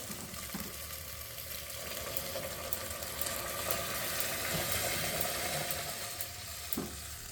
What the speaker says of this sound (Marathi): आता हे गरम पाणी आहे ना ते आपण याच्यात टाकणार आहे